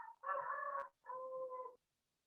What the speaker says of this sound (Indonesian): sorry, ganggu ada suara ayam.